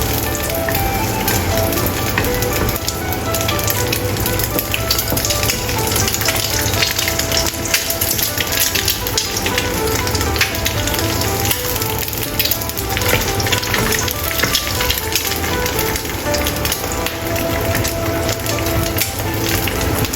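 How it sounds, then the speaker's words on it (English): Egg frying in a pan with oil, a dense continuous crackling sizzle with popping spatters, steady and close throughout with no voices. "Fold egg and fried for 30 seconds."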